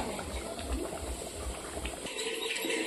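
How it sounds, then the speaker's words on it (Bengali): Meat curry gravy simmering down thick in a pot, a steady low bubbling and popping close by that breaks off near the end, with some faint chirping in the background. "এবার একটু টকবক করে ফুলবে আর নামিয়ে দেবো"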